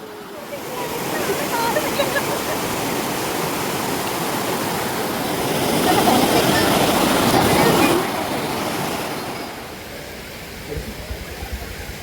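A waterfall pours in front of a forest temple in Kerala, making a loud, continuous roar of rushing water that swells in the middle and eases toward the end, heard close and alone.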